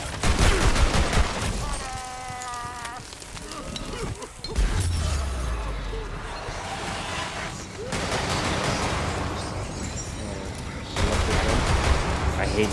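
The player's gun fires in the Tiny Tina's Wonderlands video game, with bursts of rapid shots between busier stretches of game noise. A voice can be heard at times in the mix.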